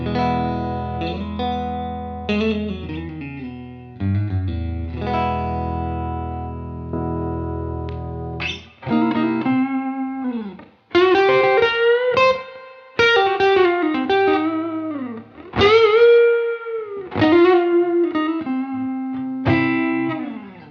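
Electric guitar with a heavy, overdriven tone compressed by an LA-2A plays sustained chords, then shorter riffs and bends, with a roomy studio ambience track around it.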